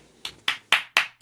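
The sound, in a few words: applause over Zoom for an open mic performer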